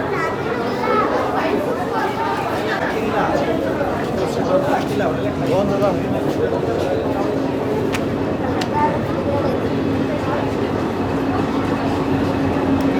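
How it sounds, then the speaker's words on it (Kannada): A train rumbles and rolls into a station, a steady low drone under constant crowd chatter and children's voices. "ಟ್ರೈನ್ ಬಂದಿದೆ"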